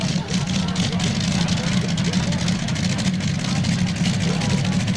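A twin Allison V12-powered, fuel-injected tractor-pulling machine of 3,420 cubic inches runs with a dense, steady low roar throughout, loud and continuous, at a 1994 NTPA pull in Imlay City, Michigan.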